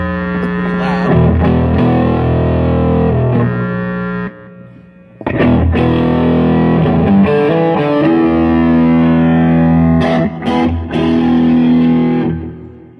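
Loud, heavily distorted electric guitar chords ring out through an amp with the gain turned up, sustaining in bursts with a brief drop near the middle and short choppy stabs later on.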